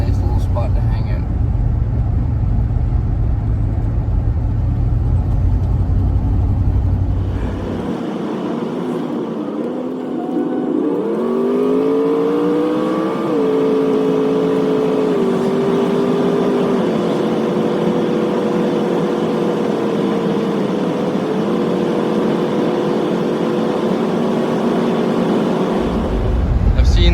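A hot rod milk truck drives past, its engine rising to a loud, close roar with changing pitch, heard over steady vehicle cabin rumble and talk.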